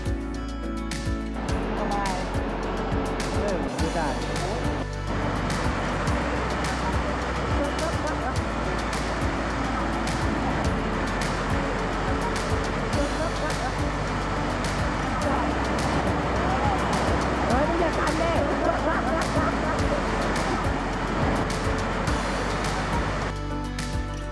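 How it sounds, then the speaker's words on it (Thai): Steady broadband rush of water at a Thai waterfall with rock pools, a continuous dense roar filling the whole scene without a break. "ขอลาไปด้วยบรรยากาศที่น้ำตกนะครับ"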